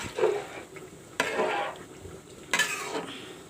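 A metal lid is set onto a pot of pulao on the stove, giving a few separate clanks and scrapes spaced a second or so apart, quiet and close.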